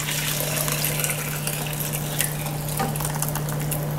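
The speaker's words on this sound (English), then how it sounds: "I'm going to go ahead and pour it back in a measuring cup" Reduced chuck roast cooking liquid pours into a measuring cup in a steady, continuous close gush with an even wash of splashing and a constant low hum beneath it.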